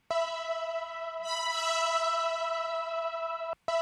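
A bright, sustained resampled synthetic string hit rich in harmonics rings steadily for several seconds, cuts off briefly, then returns; no voices.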